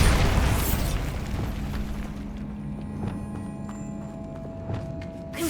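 Bombarda spell blast in Hogwarts Legacy, a loud, broad explosive boom at the start that rumbles and decays over a few seconds, followed by faint scattered debris knocks.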